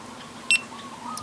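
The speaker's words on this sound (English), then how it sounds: "you can just hit this little button and then it beeps" GoPro Hero 3 Black camera locator giving a single short, faint electronic beep in a quiet setting.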